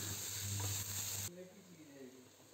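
Ground onion browns in oil in a pot with a loud, dense sizzle and stirring that cuts off abruptly halfway, leaving a quieter, softer fry.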